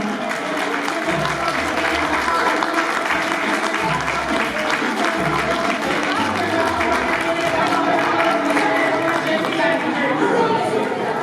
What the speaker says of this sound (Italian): un forte applauso alla nostra Camilla Agostini